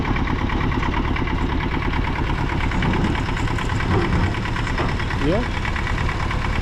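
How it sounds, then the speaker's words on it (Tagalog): A mini tractor engine runs steadily after being started, with a loud, even, continuous rumble close by while people talk. "para mapaandar agad ang mini traktora"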